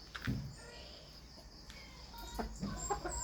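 A Sweater Kelso hen, a 3/4 to 1/4 cross in a backyard flock, gives short clucks near the start and again toward the end, close by over steady background noise, with no speech.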